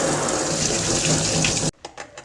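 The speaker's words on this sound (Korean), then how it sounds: "황새치 뱃살을 먼저 흐르는 물에 세척을 해보도록 하겠습니다" Swordfish belly rinsed under a running kitchen tap, a steady close splash of flowing water that cuts off abruptly near the end, followed by a few faint drips and handling sounds.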